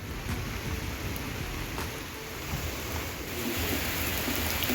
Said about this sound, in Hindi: यहाँ तो इतनी तेज बारिश स्टार्ट हो गई है, रोड भी भीग गया है, लेकिन बहुत ही तेज है बारिश तो।